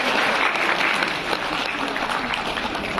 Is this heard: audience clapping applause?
yes